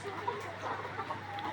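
Layer hens, 153 days old, cluck softly in a steady, busy murmur of overlapping calls at moderate distance, with no voices over them.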